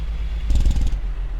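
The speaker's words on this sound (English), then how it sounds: "Oh, short-lived engine brake." A Detroit 60 Series truck engine in American Truck Simulator kicks in its engine brake for about half a second, a fast rattling pulse over the low steady engine drone.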